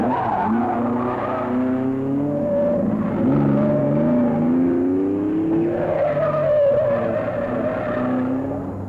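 A rally car on the 1971 Circuit of Ireland skids with sustained tire squeal, rising and falling in loud wavering tones over a steady engine drone for the full nine seconds, with no one speaking.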